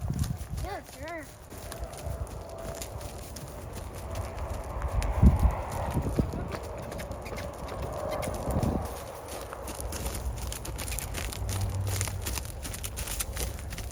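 A ridden horse named Luna walks, hooves clip-clopping at a steady pace, with people talking over the hoofbeats and an occasional louder thump.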